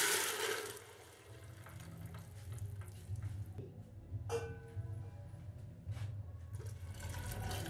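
Water is poured into hot ghee in a cooking pot, giving a soft, quiet hiss and sizzle with faint splashing and a few light clinks of utensils close by.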